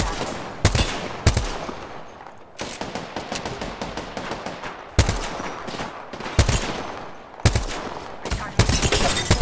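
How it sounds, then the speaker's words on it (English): Bursts of gunfire in the video game Apex Legends, loud sharp volleys recurring every second or two with rattling automatic fire and battle noise between them. "Getting shot at."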